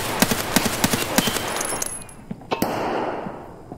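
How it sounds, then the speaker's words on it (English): Gunfire in Escape from Tarkov, a string of sharp, evenly spaced shots in a burst followed by a few louder, closer cracks and a lingering distant rumble, with no talk. "I heard a gunshot."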